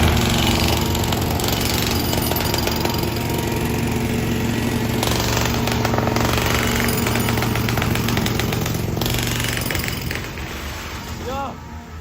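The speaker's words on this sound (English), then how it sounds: "It's the fucking jackhammers." A loud jackhammer pounds continuously in rapid bursts on a wintry New York City street, with street noise around it and a brief voice near the end.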